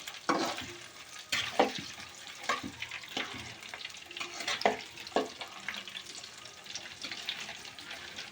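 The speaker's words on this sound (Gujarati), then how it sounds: "હવે આપણે પહેલાં નાખી દઈશું બટેટા. આપણે બટાટાને તેલમાં જ સડવા દેવાના છે." Potato pieces and onions frying in oil in a Gujarati chicken-and-potato curry, with a soft continuous sizzle broken by repeated scraping and stirring knocks from a utensil in the pan, close by and moderately loud.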